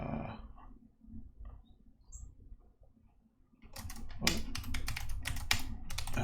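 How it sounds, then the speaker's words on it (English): Someone types a name on a computer keyboard, starting with a few faint scattered clicks before a quick run of sharp, close keystrokes in a quiet room. "when I'm typing in my name"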